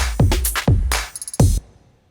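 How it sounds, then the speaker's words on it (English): Drum track from a music production song: three loud kick-and-snare hits spaced evenly, with a quick run of five short hi-hat or percussion taps between the second and third, clear and up front, no talking. "Okay, so first we have the drums that sounds like this."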